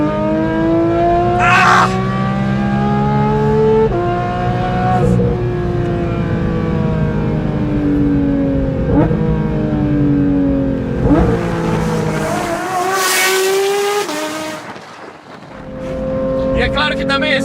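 A Porsche 911 GT3 engine revving hard through repeated upshifts, each climb in pitch cut by a brief drop, loud and close, with a short exclamation from someone inside the car.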